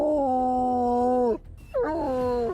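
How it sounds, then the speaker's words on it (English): A hound dog lets out a long, mournful howl, breaks off briefly, then resumes howling, close and clear. "a hound dog that laid at Granny's feet arose and sent up a long howl"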